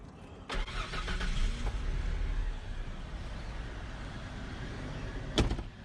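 A worn 1993 Mercury Cougar engine cranks and fires up, with a sharp mechanical clunk at the start, a rough running rumble, and another knock near the end.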